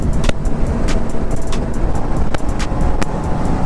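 A KTM Duke motorcycle cruises at around 100 on a highway, heard as a steady, loud broadband rush of wind and engine with occasional sharp passing transients close by.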